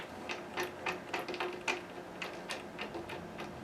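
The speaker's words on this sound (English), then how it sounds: "Put the neck bolts in first, just get them started." Metal neck bolts threaded by hand into a Taylor 314 acoustic guitar, giving a run of small, quick clicks and ticks at an uneven rhythm, close and quiet, with no talking.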